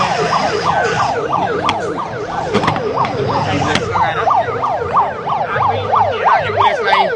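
An ambulance siren wails in a steady repeating up-and-down pattern on a road during a minister's inspection, loud and continuous over traffic rumble, with no talking.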